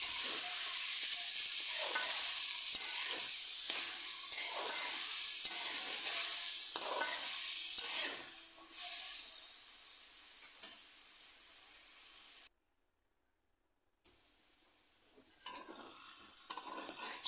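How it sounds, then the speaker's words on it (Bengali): Vegetables and onion fry in oil as a spatula stirs them, with rhythmic scraping strokes over a bright steady sizzle, close by; the stirring stops midway, leaving a quieter hiss, then a brief silence before the frying resumes. "এবার কিছুক্ষণ এভাবে সবজিগুলো ভেজে নেব।"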